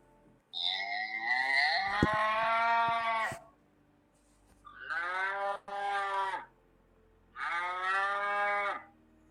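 Three long, loud cow moos separated by short pauses, each a deep drawn-out bellow, close by with no talking.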